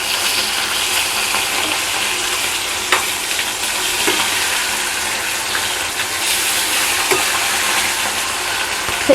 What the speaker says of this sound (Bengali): মাছ ভাজা হয়ে গেছে, এখন আমি বাকি মাছগুলোকে ভেজে নেব